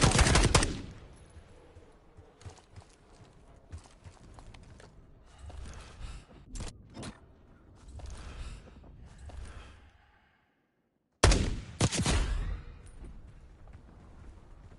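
Gunfire exchange in the Black Ops 6 campaign: a loud opening burst, then scattered shots and rattling automatic fire through the middle, a brief silence, and another sharp, loud volley near the end.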